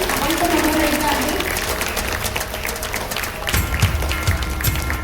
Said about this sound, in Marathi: एका सगळ्यांनी जोरदार टाळ्या वाजवायच्या आहेत